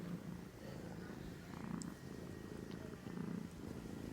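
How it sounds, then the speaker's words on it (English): A cat purrs steadily and close by in a quiet indoor setting, a soft continuous rumble that swells louder in slow pulses. "Listen to your purrs getting all loud."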